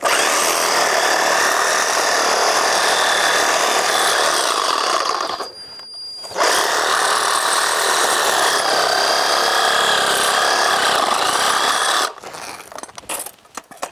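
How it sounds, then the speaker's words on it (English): A reciprocating saw cuts through a deer's hip ball joint during butchering, a loud continuous buzzing rasp that drops out briefly midway, then resumes before ending in scattered scraping. "So take the sawzall. You wanna cut that ball joint out of there"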